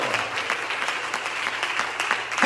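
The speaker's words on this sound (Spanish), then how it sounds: "Denle un fuerte aplauso al Señor" An evangelical congregation in a church gives a strong round of applause, many hands clapping steadily and close together, swelling louder at the end.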